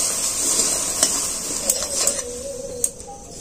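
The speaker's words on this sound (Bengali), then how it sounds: "আবার এটাকে আমি ভালো করে নেড়ে চেড়ে নেব।" A spoon stirs hot milk in a pot on the stove, giving a soft continuous scraping swirl over a faint sizzle, with a few light clinks against the pot's side.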